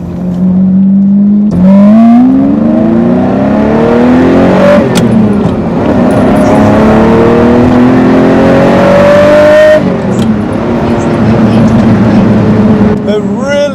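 A Ferrari Testarossa 512 TR engine revs hard toward its redline past 5,000 RPM, loud and close, with rising and falling pitch sweeps across repeated pulls and a voice talking over it.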